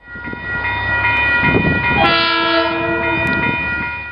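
KiwiRail DC class diesel locomotive DC 4260 working the Waitoa Branch: a loud, close engine rumble with wheels rolling, then a sustained multi-tone horn blast that holds to the end.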